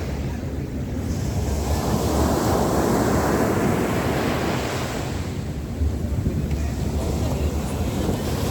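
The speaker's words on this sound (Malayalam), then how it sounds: "തിരമാല ശക്തി കൂടിയ ഇതുകൂടെ എല്ലാ ആൾക്കാരും ഫോൺ എടുത്തിട്ട് ഷൂട്ട് ചെയ്യാൻ തുടങ്ങിയിട്ടുണ്ട്." Ocean waves roll and break at Dubai Marina's JBR beach, a loud continuous wash of surf mixed with gusting wind noise across the microphone, swelling and easing without pause.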